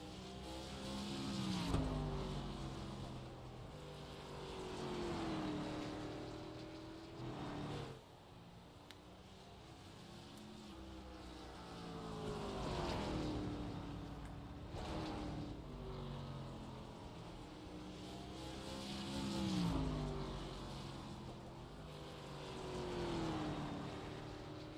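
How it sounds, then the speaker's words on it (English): Race cars lapping the Five Flags racetrack, engines rising and fading as each car passes, with revving swells recurring every few seconds at moderate distance. "He is now the fastest car on the racetrack."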